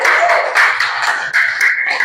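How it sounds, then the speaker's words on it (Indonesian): Classroom students clapping together after a group discussion, loud close rhythmic claps in quick bursts filling the room with little talk. "Tepuk tangan dulu dong."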